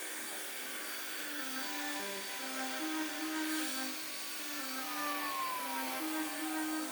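Air blown hard through a car engine bay to clear leftover debris: a steady, close rushing roar with a faint whine, continuous for several seconds.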